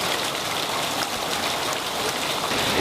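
Steady broadband rush of water pouring into a river inside a cave in the Sierra de Zongolica, a constant, close, dense splashing flow with no voices.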